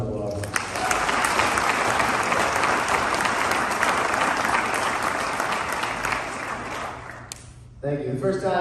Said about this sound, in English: Let's give Rusty another round of applause.